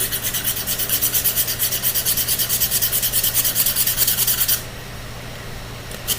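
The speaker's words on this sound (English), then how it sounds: "we're going to hand sand. This is 80 grit." Someone hand sands Honda Grom motorcycle body parts being repaired after an accident, using 80 grit sandpaper. The rhythmic scratchy strokes come about twice a second, close and loud, then stop, leaving quiet near the end.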